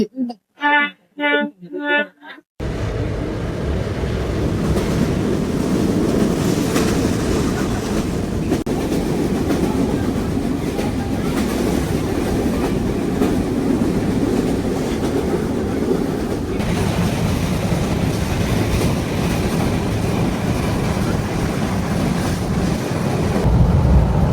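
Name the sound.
passenger train running on tracks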